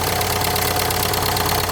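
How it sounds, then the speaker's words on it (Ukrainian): A Nissan Qashqai engine idles steadily up close, a loud, even mechanical rumble with a faint rhythmic ticking and no voices. "Двигун працює тихенько, робить рівно"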